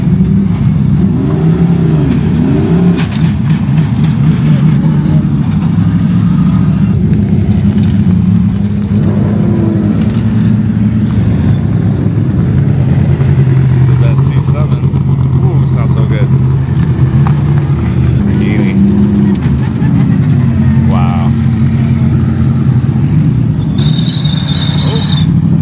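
Race cars from a GT World Challenge event leaving the track at Sonoma Raceway, with a loud, continuous engine drone that shifts in pitch as the cars pass nearby, heard under a person talking.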